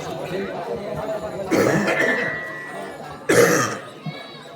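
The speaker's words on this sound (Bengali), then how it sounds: "প্রচন্ড কাশি" A person with a heavy cough, barely able to speak, coughs twice in harsh, loud bursts against a steady murmur of background voices.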